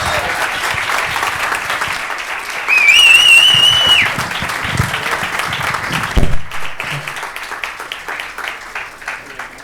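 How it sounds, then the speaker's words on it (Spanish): An audience bursts into sustained applause for Ramiro at a talk event, loud dense clapping near and filling the room, with a brief whistle rising over it before the clapping thins out. "un aplauso para Ramiro"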